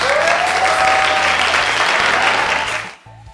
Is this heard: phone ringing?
no